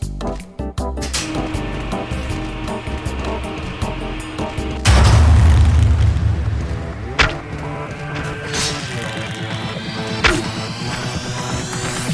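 An explosion in the robot combat video game Clone Drone in the Danger Zone bursts as a loud, deep boom amid busy game music and clanking effects, followed by ringing sweeps.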